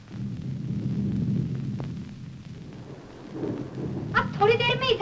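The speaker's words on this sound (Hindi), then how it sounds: "वो देखो, उस पहाड़ी पर बारिश शुरू हो गई" Rain setting in over hillside farm country in August, with a deep rolling thunder rumble under steady rainfall; a voice briefly breaks in near the end.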